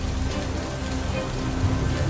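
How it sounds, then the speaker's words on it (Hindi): Rain falls steadily on a deserted road on a cold winter night during an easing storm, a dense continuous patter with low rumbling underneath, loud and close throughout, with no one speaking. "पहले से बारिश थोड़ी कम हो चुकी थी, लेकिन बिजली लगातार कड़क रही थी।"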